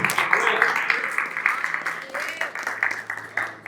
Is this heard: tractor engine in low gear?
no